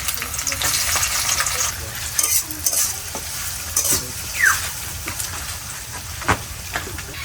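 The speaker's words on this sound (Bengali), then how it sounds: "পেঁয়াজ ভাজা হয়ে গেছে গা" Chopped onions with bay leaves fry hard in a pan of hot oil, a steady close sizzle broken by repeated clattering stirs of the spatula.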